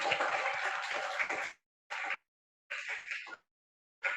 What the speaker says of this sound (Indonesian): Berikan aplaus untuk Laviola